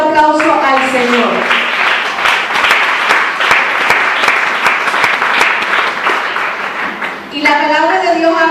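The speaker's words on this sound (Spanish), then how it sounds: "¿Cuánto le damos un fuerte aplauso al Señor?" A congregation applauds vigorously in a Spanish-language church service, with dense, loud clapping filling the middle while a voice speaks over it at the start and end.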